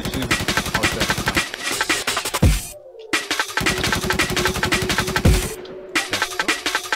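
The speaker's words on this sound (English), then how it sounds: "So I'm gonna shoot him." Rapid automatic gunfire in the online shooter game InfectZ, two long dense bursts separated by a short pause, loud and close.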